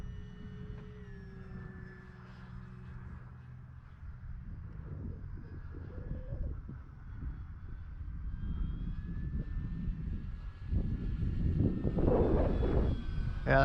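An E-Flite T-28 1.2m RC airplane flying just after takeoff on a windy maiden flight, a distant motor drone and wind rumble that grow steadily louder and closer toward the end.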